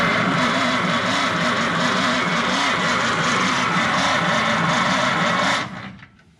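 A 1953 Packard engine cranks over slowly on the starter, a steady, rhythmic churning that runs close and fairly loud for several seconds before cutting off abruptly.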